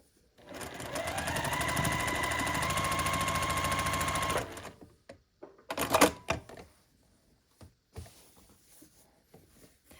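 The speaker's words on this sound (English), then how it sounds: "And then you just sew across." A sewing machine stitches across a quilt block, running steadily and loudly for about four seconds before stopping, followed by scattered handling clicks and fabric rustles.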